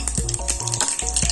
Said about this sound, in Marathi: तेल तापलेलं आहे, आपण जिरं मोहरी टाकू,